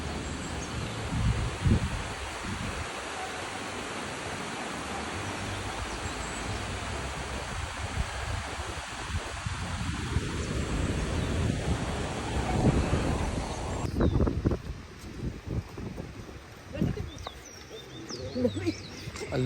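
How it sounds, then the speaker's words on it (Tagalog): Steady gusting wind rushing through trees by the Agos River in Infanta, Quezon, a broad rustling roar that persists throughout with some buffeting against the microphone. "Yung hampas ng mga puno dahil sa hangin"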